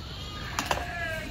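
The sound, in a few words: goats bleating on the Annapurna Base Camp trail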